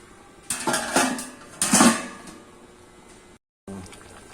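A lid goes onto a metal cooking pot of crab and shrimp simmering in coconut milk with squash and string beans, giving two loud close clanks and rattles, then a brief silence.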